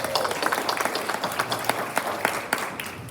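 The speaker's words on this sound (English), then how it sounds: "Give them a huge round of applause." An audience at a community chamber gathering applauds, a full, continuous patter of many hands clapping at moderate loudness with a few louder individual claps standing out.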